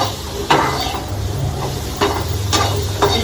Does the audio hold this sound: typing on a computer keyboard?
no